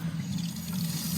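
Water from a newly installed kitchen faucet runs in a steady, continuous stream, a close, even rush with no pauses and no voices.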